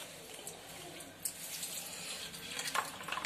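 High-pressure water spray rinses built-up grime from the tub of an LG fully automatic washing machine, a steady rushing hiss with brief louder bursts, close and alone without talk.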